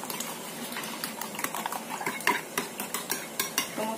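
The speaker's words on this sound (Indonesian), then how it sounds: "Ini saya akan aduk rata." Eggs, sugar and vanilla stirred together in a bowl with a spoon or whisk, giving a continuous close scraping swish punctuated by regular light clinks of metal against the bowl.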